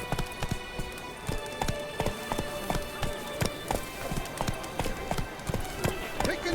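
Roach the horse galloping in The Witcher 3: Blood and Wine, steady rapid hoofbeats drumming in an even rhythm throughout, close and moderately loud.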